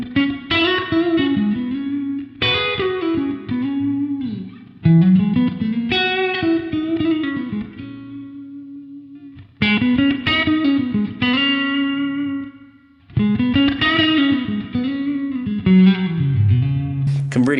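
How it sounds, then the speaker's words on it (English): Electric guitar playing a blues tone through a tile reverb effect, giving a room-like ambience: distorted sustained phrases and chords ringing out in several bursts with short decaying tails between them, loud and close. "Another thing to try is maybe sticking on a bit of tile reverb. So this is like a room type sound"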